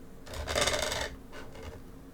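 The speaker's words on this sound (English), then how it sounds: "Sorry about that crunching noise." Crunching, rasping scrape from a desk lamp being adjusted, one loud roughly one-second burst followed by two shorter, fainter crunches, close by with no talking.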